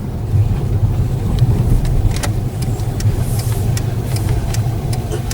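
A 2003 Jaguar XJ8 X350 with a 3.5-litre V8 petrol engine and six-speed gearbox runs steadily, a low even rumble with faint ticks and rattles above it, close and continuous.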